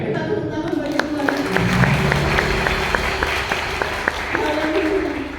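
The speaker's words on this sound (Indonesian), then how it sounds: "Kita tepuk tangan bagi Tuhan." A church congregation claps hands in praise during a worship service, a steady crowd of clapping with regular accented beats, over sustained keyboard or organ tones and murmuring voices.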